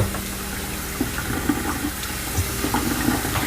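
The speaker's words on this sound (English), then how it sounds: "I'm going to rinse it in hot water since I'm just going to be putting it directly in my broth." Hot tap water running over keto noodles in a sink, a steady rushing stream with small splashes and clinks, fairly loud and close, with no talk.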